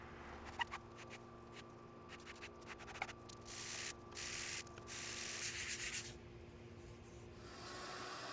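Close, quiet hand sanding of small wooden coaster pieces up to 220 grit: rhythmic rubbing and scratching strokes that grow into longer steady rasps.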